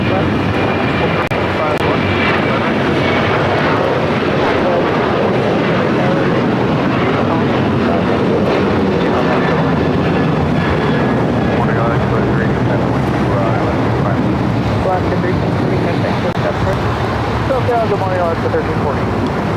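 Aircraft at LAX airport: a steady, loud jet engine roar with wind buffeting continues throughout, with a radio voice and commentary talking over it.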